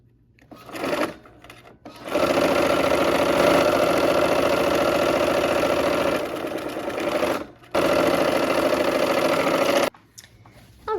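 A sewing machine stitches quilt block seams in long steady runs, a loud, close, even whir that stops briefly between bursts, with no talking.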